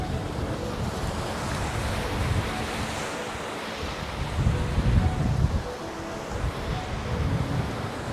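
Strong wind and breaking waves at the Graciosa anchorage in the Canaries, a steady roar of surf with gusts buffeting the microphone, surging louder midway, with no voices.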